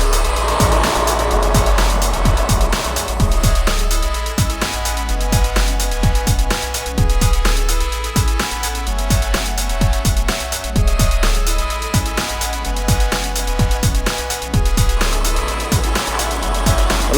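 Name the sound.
riding a prototype fat e-bike with Xofo mid-drive motor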